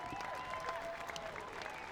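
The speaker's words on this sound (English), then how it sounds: "And a round of applause" Audience applause at a gate jumping event, a short burst of steady clapping from a crowd with faint voices mixed in.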